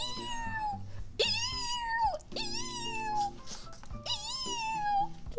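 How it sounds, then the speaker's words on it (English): A cat meows three times in drawn-out, rising-and-falling cries, close and clear over faint room noise. "I love when you guys clip her meowing on stream."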